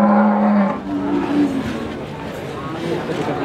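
Limousin cattle at a busy livestock market give a low, droning moo, then a shorter second call, close and loud under the hubbub of people talking.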